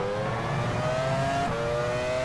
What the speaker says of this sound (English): I love the sound and the way these cars get out of the corner.